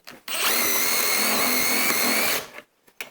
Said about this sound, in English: I cut the nail with this Craig drill bit